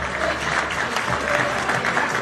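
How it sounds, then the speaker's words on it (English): Brief burst of thick, steady crowd applause at a festival and convention performance, loud and close, filling the whole moment. "How about a round of applause for all you guys?"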